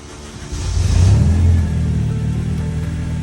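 A Honda car engine with a newly installed K-Pro ECU cranks, catches and revs up loudly about half a second in, then settles into a rough, rumbling idle.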